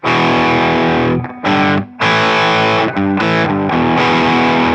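A heavily distorted electric guitar chugs through a verse riff, loud and close, with short rhythmic gaps between chord bursts.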